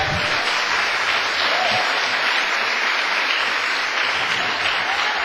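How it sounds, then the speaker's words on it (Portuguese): Church congregation applauding during a worship service, steady sustained clapping from a large group heard throughout, fairly even and unbroken. "Uma salva de palmas."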